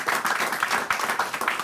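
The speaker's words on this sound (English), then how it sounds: "round of applause, please" Applause at a football awards ceremony, a steady, full burst of clapping from a large audience for a brief moment.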